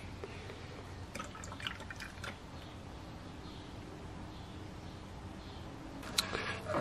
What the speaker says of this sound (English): So we're just gonna sit here and add as much coolant as we can, as much as it'll take.